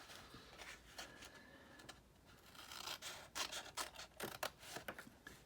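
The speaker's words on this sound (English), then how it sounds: "we're going to trim off the bottom of this tag right here" A paper tab on a craft treat-bag basket being trimmed with scissors: soft, close rasping and snipping strokes, faint and irregular, with no voices.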